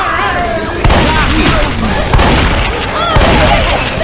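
Shotgun blasts in the zombie shooter Left 4 Dead 2, several sharp booming reports at roughly one-second intervals amid dense game noise and chatter, loud and close.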